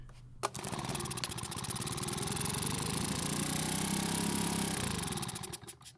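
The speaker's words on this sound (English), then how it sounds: "What I'm doing is having the engine work the diaphragm pump inside the carb to pull fuel from the tank." A Makita 4-stroke leaf blower engine is cranked over to prime its carburetor, giving a steady whirring, chugging drone for several seconds after a sharp initial pull, then tapering off as it stops without catching.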